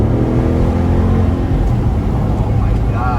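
A Jeep Grand Cherokee SRT with a 6.4L Hemi V8, driven in sport mode, gives a loud, steady engine drone from inside the cabin, with faint chirps near the end and a voice present.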